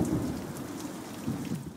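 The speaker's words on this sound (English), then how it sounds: "Thunderstorms moved into North Oklahoma City Wednesday morning." Steady rain pours down during a thunderstorm over north Oklahoma City, a dense hiss with low rumbling thunder underneath, heard alone with no voices.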